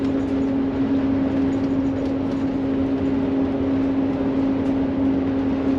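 Inside a 2005 Newmar Kountry Star 3473 Class A motorhome with 64K miles, the cabin fills with a steady low road drone and a constant hum while it drives smoothly, with no breaks or other sounds.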